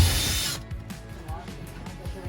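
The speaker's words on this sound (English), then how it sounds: "pilot holes only are drilled at this time" A power drill bores pilot holes for Sherpa roof rack mounts on a 2023 Jeep Gladiator: a loud close burst, then a steady motor whine with repeated short pulses and rattles.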